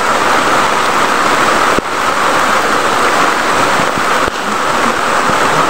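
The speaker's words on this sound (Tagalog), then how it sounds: "Hindi pa rin tumitigil ang ulan talaga." Steady, dense rainfall pours down without pause, a continuous wash of hiss with no voices.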